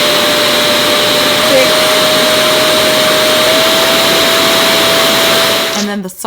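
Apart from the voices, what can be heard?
Revair hair dryer motor running at higher speed settings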